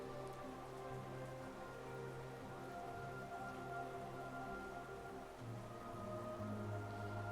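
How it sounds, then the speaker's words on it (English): Soft, steady rainfall patters continuously over a faint tonal background hum in the video game Hollow Knight, quiet and even throughout with no voices. "Rain is always great in games."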